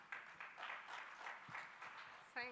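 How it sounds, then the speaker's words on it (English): A conference audience at a women-in-intellectual-property event gives a brief, faint round of applause, scattered clapping heard softly under a voice speaking nearby. "A round of applause."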